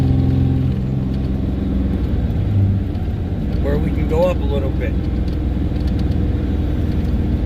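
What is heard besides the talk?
Dodge Ram 5500 Cummins diesel truck climbing mountain grade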